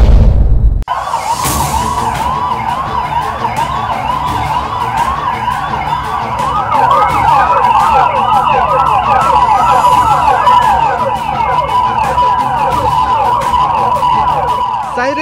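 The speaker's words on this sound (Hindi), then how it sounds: "सायरन की ये आवाज आगाह करने के लिए नहीं, बल्कि उन योद्धाओं के प्रति आभार प्रदर्शित करने के लिए है" Emergency vehicle sirens wail together, sounded as a tribute to Corona warriors, with several overlapping rising and falling tones that are loud and continuous throughout. A sharp thump comes at the very start.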